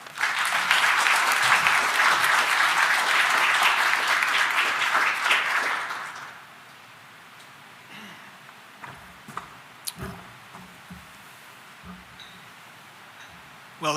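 Audience applause welcoming lecturer Jon Allen at a lecture on Israel-Palestine, a dense, steady clapping that fills the room for about six seconds, then cuts off into near silence with a few faint knocks and rustles.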